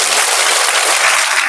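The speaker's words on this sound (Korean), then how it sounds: "박수." An audience at a church gathering breaks into applause after a North Korean defector's testimony, a loud, dense and continuous roar of clapping throughout.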